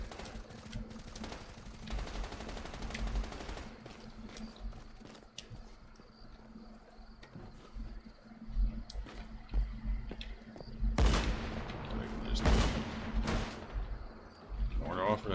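Mark II turrets firing in the Once Human video game, bursts of gunfire that build from moderate to loud around the middle and end, mixed with other game sounds and a voice speaking.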